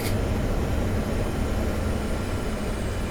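A Boeing 727 airliner's engines in Microsoft Flight Simulator X give off a steady, loud, broadband roar that holds even throughout, with no voices over it.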